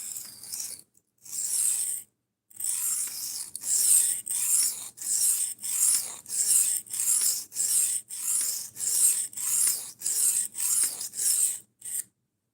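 A Ruike P108-SF folding knife is drawn across a whetstone in rhythmic, close rasping strokes, about fifteen evenly spaced scrapes separated by short pauses, with no talking.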